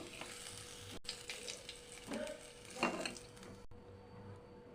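Salted potato pieces fry in oil in a home kitchen, with a quiet, soft sizzle and intermittent scraping and clinking of a utensil stirring in the pan.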